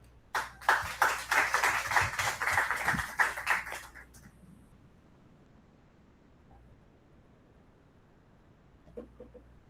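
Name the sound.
audience applause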